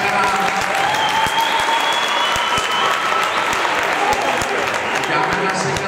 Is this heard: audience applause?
yes